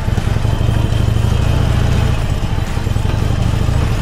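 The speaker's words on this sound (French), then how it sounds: "Deuxième passage, cette fois-ci avec l'Harley Davidson" A Harley-Davidson motorcycle rumbles past on a test course, its loud low engine note steady and close for the whole stretch with a brief dip midway.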